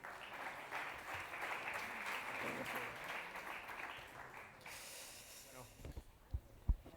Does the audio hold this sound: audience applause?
yes